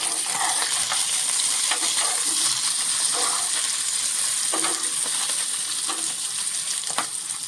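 Small lavangi chillies sizzle and fry on a hot griddle with steady crackling, broken by a few scraping stirs of a spoon as they are turned over.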